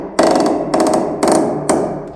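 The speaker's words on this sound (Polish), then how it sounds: "Gwoździe z tych legarów wychodzą bardzo ciężko, łomem i to ledwo." Heavy impacts on old floorboards while nails are pried out of floor joists with a crowbar: four loud, separate thuds spaced about half a second apart, each with a short ringing decay, close by with no talk.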